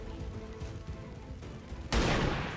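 Gunfire in the turn-based strategy game XCOM 2 erupts as a sudden loud burst of shots after a quieter stretch of muffled game sound, then holds at a dense, rumbling level to the end.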